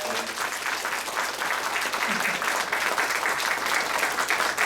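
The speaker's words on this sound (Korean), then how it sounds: "우리 박수로 맞이하겠습니다" Congregation at a Korean church praise and testimony evening applauds steadily to welcome an elder, a dense, even wash of clapping throughout.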